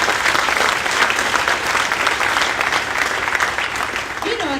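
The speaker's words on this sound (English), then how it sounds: "So let's give a round of applause for that." An audience at a school district State of the District event breaks into sustained applause, a dense, loud wash of clapping that continues steadily from start to finish.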